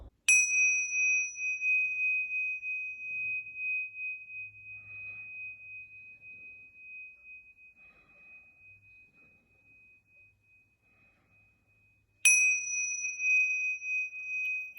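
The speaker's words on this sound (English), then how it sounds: "I like to activate the bells 3 times." Bells rung to cleanse crystals: a bright metallic strike rings out and decays slowly over many seconds, then a second strike sounds near the end and rings clear in a quiet room.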